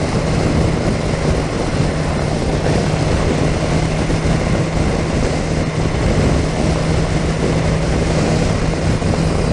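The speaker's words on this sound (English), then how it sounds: "You can hear the throttle body." A 2018 BMW S 1000 XR motorcycle at speed gives a loud, steady engine and intake roar with throttle-body induction noise, heard close over constant wind rush.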